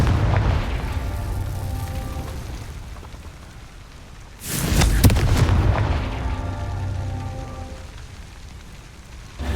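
A Confringo fire spell from Hogwarts Legacy explodes once in a loud, booming blast midway through, set against a continuous rain-like game ambience.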